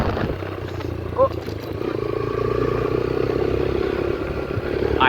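A motorbike engine drones steadily at close range with a clattering rumble while the rider shifts into third gear; a rider's voice talks throughout over the engine noise.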